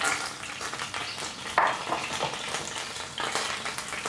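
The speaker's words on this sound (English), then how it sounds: "Same cooking pan, add a little bit more oil. Garlic, ginger" Garlic and ginger frying in oil in a hot pan for a beef stir fry, a soft continuous sizzle with occasional stirring scrapes, moderately quiet and close.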